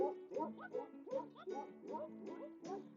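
Voices imitate a dog with a rapid run of short, yappy barks in a steady rhythm, close and moderately loud.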